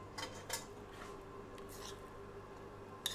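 Soft clinks and scrapes of a spoon against a plate while mashed potato is scooped into the middle, a few quiet metallic taps over low background hum.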